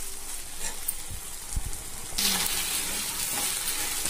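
Chicken Manchurian frying on high flame in a pan, a steady sizzle and hiss that swells louder midway as it is stirred, close up with a few soft knocks and no talk.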